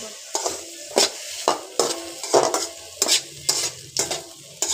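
Bitter gourd and potatoes frying in a pan, stirred with a spatula in a steady series of scraping strokes, about two a second, over a low background sizzle.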